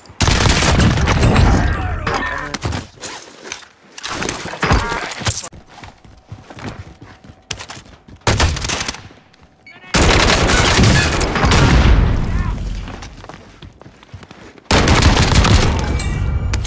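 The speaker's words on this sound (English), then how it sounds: "I'm under fire." Bursts of video game gunfire crackle loud and close, rapid volleys that stop and start in clusters, with quieter gaps of distant shots between them.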